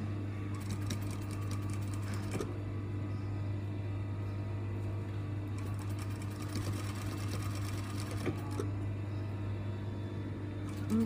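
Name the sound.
sewing machine stitching a seam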